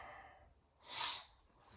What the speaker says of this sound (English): Sorry if I keep sniffling, y'all.